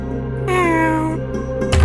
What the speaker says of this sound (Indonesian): Sudah, pergilah wahai sang kucing.